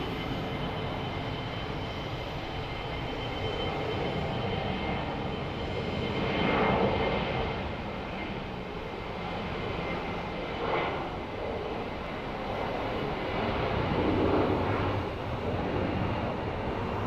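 An airliner taking off at Phoenix Sky Harbor airport, a distant, sustained jet engine roar that swells and fades over many seconds with some wind noise.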